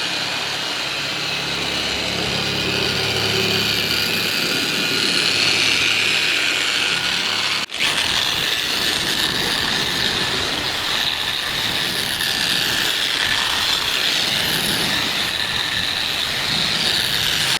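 A polishing machine buffs faded paint on a Volvo, a continuous close whirring drone with a brief dropout partway through, running steadily throughout.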